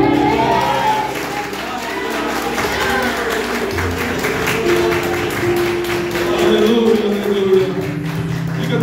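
A church congregation claps along during a worship service, steady rhythmic applause blended with crowd noise and voices.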